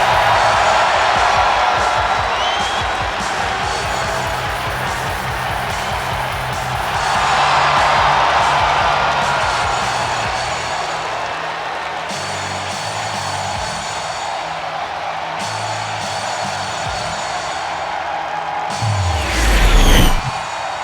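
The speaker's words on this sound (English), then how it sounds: "This crowd is absolutely frenzied." A wrestling arena crowd in WWE 2K25 roars and cheers continuously, a dense steady wash of voices swelling at times, with a thud and brief rumble near the end.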